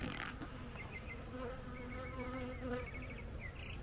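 Agitated honeybees buzzing at an opened hive after brood frames were pulled apart, a dense close swarm drone with individual bees whining past the microphone, steady and loud throughout.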